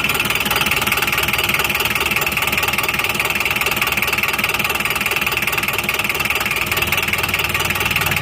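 A Daihatsu Taft GT engine idles cold with the oil filler cap off, a steady close mechanical drone with faint ticking and knocking that runs unbroken and loud for the whole stretch, without any voices.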